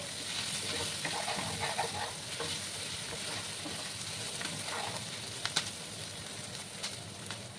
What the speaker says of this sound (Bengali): আর এদিকে আমার পেঁয়াজটা ভাজা হতে থাক।